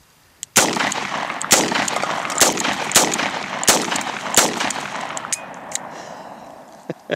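A .44 Magnum fires 240 grain flat point reloads at a cement block outdoors. Loud, sharp shots ring out one after another in an uneven series of about seven, each trailing into a long echo.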